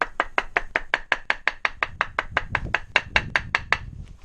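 A grommet setting tool is tapped over and over, about twenty sharp, evenly paced knocks close up, with a slight pause near the end and no talk.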